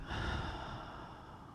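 A long, soft exhale releasing a held breath during a breathing exercise, close and airy, tapering off gradually in a quiet room.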